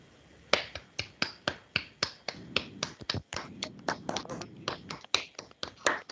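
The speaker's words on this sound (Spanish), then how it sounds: "los invito a abrir sus micrófonos y darle un fuerte aplauso por tan excelente socialización" Participants in an online meeting applaud over open microphones, producing a run of sharp, rapid claps that overlap in an uneven rhythm, fairly faint and slightly compressed.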